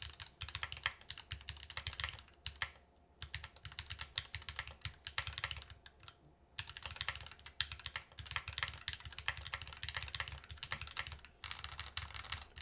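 Typing on a Bear v2 mechanical keyboard with an aluminum case: crisp, sharp clacking keystrokes in close, steady bursts, broken by a few short pauses, with no voices.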